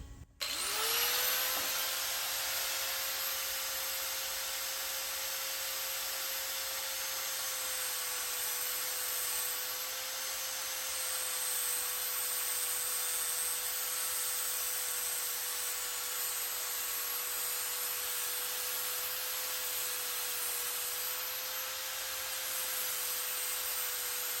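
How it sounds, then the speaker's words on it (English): A cheap Harbor Freight cutoff wheel cuts through steel springs, giving a loud, steady high-pitched whine that runs unbroken for the whole stretch after a brief spin-up, with no talking. "So here's your high-end Harbor Freight cutoff wheel."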